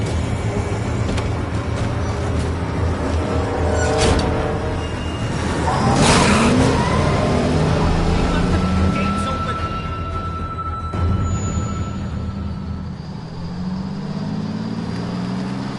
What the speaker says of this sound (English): I'm not about to turn the engine off again.